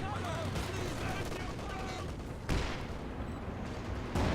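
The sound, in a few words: Werfer rocket artillery barrage in video game Company of Heroes 2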